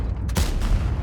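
A tank cannon fires in World of Tanks, the FV215b shooting a standard round: one loud, close boom with a booming tail, alone with no voices.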